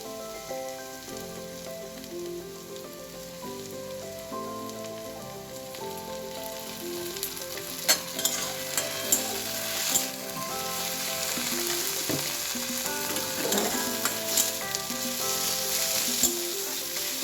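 Garlic and a ginger-cumin paste fry in a pan with a loud, continuous sizzle and crackle, broken by occasional sharp pops, while faint tonal background music plays underneath.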